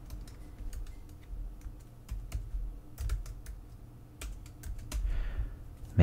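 A password being typed on a laptop keyboard: quick, irregular clicks of keys, some in short bursts, close and fairly soft against a quiet room, with a louder knock at the very end and no talking.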